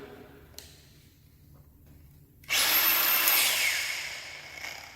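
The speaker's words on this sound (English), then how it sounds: "let me grab one of the battery grinders" A battery-powered hand grinder kicks on after a quiet pause, its high whine spinning up loudly and then slowly easing off over a couple of seconds, heard alone up close.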